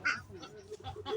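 Ducks quack close by in a quick run of short, nasal calls across little more than a second, with no other sound competing.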